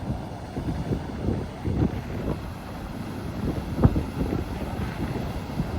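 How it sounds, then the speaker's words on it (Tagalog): Strong wind buffets the microphone at Port Waikato Sunset Beach in New Zealand, with heavy surf rumbling underneath, a loud, continuous roar with gusty surges and one sharp thump near the middle. "Lakas ng alon."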